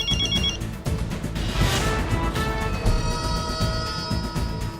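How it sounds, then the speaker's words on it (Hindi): A telephone rings with a bright, repeating bell at the start while a busy domestic scene carries on around it, with background commotion and layered sounds continuing after the ring. "आपके बॉस का फोन है।"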